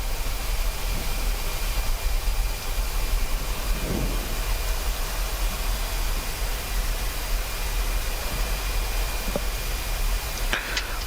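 Steady broadband roar of an Embraer E190-E2's APU and engine running, heard from inside the cockpit at the gate, continuous and fairly loud, with a few faint clicks and switch sounds near the end.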